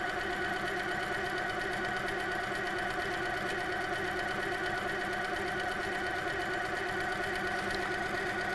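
An HQ Sweet Sixteen sewing machine stitches continuously during free motion quilting, giving a fast, even mechanical hum and rapid needle chatter at close range, steady throughout with no talking.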